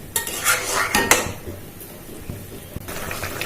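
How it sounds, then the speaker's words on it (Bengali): Tomato paste with spices and red chilli powder is sautéed in a pan for a potato curry, with sharp metal clinks and scrapes of a spoon against the pan over a low sizzle, close by. "এবার মশলার সাথে টমেটো পেস্টটা ভালো করে কষিয়ে নেওয়া হচ্ছে।"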